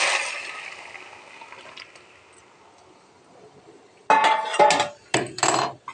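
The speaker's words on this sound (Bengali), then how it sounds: "এবার আমি ডালটা দিয়ে দেবো।" Lentils are tipped into a pan of frying onions, giving a broad hiss that fades, then sharp metallic clanks and scraping of a utensil against the pan near the end.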